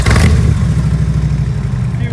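2013 Harley Davidson FLTRX Road Glide 103ci bagger with fuel injection, a loud, close, deep engine rumble that surges at the start and then holds a steady throbbing idle.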